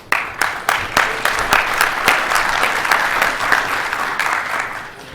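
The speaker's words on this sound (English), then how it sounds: "So please give them a warm round of applause." A security-conference audience at ShmooCon 2012 gives a warm round of applause, opening with a few sharp, separate claps before swelling into dense, continuous clapping that gradually tapers.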